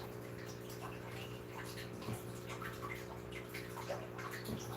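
Water runs steadily into a fish tank in a steady, low, continuous wash. A constant mechanical hum sits beneath it, with a few faint ticks and drips on top.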